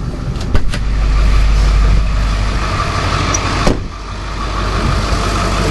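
A car engine hums steadily, muffled as if heard from inside the vehicle, with a couple of brief knocks and a slight dip in level.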